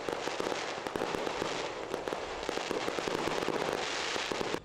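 Continuous crackling and popping of fireworks at a distance, seen across a river during a lantern floating ceremony, dense bursts overlapping steadily with no voices.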